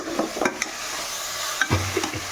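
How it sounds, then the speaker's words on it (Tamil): A spoon stirs chicken biryani gravy in a pot on a home stove, giving soft scraping strokes and light clinks against the metal over a faint sizzle, with a few sharper knocks near the end. "பாப்பா பாருங்க, சூப்பராக கிண்டின்னு கிண்டிகிட்டு இருக்காங்க"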